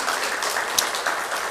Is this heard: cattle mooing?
no